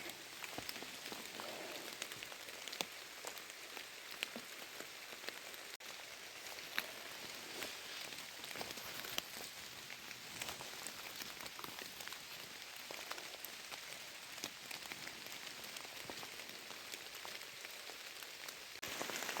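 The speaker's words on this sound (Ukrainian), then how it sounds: "Дощик не дає ходити і познімати." Steady rain patters on surfaces outdoors in autumn, a continuous soft hiss with scattered drips and no voices.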